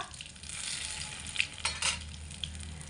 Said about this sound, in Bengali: প্রথমে আমি এখানে 5 ফোড়ন দিয়ে দিচ্ছি।